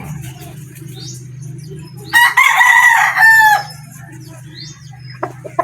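A pure golden boy gamefowl rooster crows once loudly and close, a drawn-out cock-a-doodle-doo of about a second and a half, over a low steady hum with faint clucking around it.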